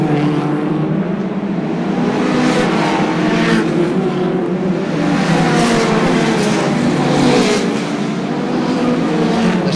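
Hot rod race cars at Ipswich in 1978 roar continuously with loud, sustained engine noise as they race around the track, with engines revving and cars passing close by.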